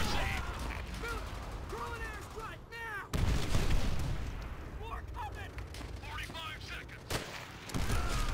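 Mortar and artillery explosions in Call of Duty: World at War co-op gameplay, several heavy booms with a sharp blast near three seconds and another near seven, mixed with gunfire, whistling shells and battlefield clatter.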